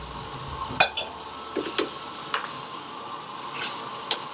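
Chickpeas stirred into base gravy in a hot pan, a steady close sizzle with scattered scrapes and spoon knocks against the metal, no voices.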